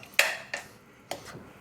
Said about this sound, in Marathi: कुकरमध्येच ना त्याला मस्त मॅश करून घ्यायचं आहे